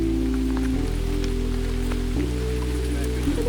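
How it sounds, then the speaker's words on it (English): Steady rain falls in the Scottish Highlands as an even, continuous hiss with a low droning undertone, with no break across the few seconds. "day 3 was offering yet more rain."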